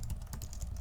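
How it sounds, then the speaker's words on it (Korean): Keys on a MacBook keyboard are tapped in a brief, close burst of soft clicks, a few quick presses in under a second. "이렇게 타이핑을 여러 번 해야 되는데"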